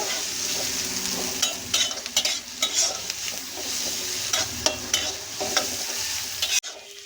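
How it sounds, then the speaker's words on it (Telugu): Onions frying in a pan while being stirred for a Vankaya Aloo curry, a steady sizzle broken by repeated scraping stirs, close and clear with no voices. "ఇది ఆనియన్ కొంచెం ఫ్రై అయిపోయింది కదా"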